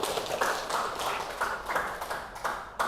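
Students in a high school history classroom clapping hands together, a few quick bursts of sharp claps in an uneven rhythm, fairly faint and close.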